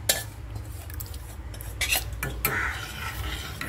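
Idli rice is tipped into a pan and stirred in, giving repeated scraping, clinking strokes of a utensil against metal in an irregular rhythm, close and fairly quiet, with no talking.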